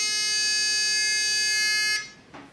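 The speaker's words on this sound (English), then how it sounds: "The little buzzer, I'm just running off the battery" A small battery-powered electronic buzzer on a board angle sensor sounds a loud, steady high-pitched tone for about two seconds, then cuts off abruptly, leaving a faint brief trailing noise.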